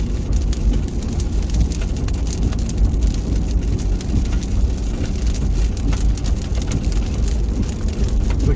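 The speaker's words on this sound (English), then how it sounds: "If we get out from underneath this rain cloud, I think we might clear up." Heavy rain pounds a car on a long road trip across Canada from the Yukon, a loud, steady, close hiss of drops on the roof and windows over low road rumble, with no voices.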